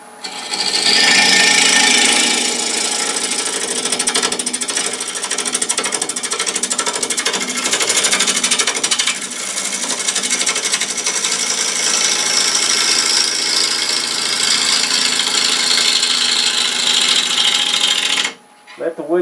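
A bowl gouge takes a roughing cut on a Bradford pear bowl spinning on a lathe, a loud steady scraping, hissing rush that runs almost unbroken for the whole stretch before cutting off.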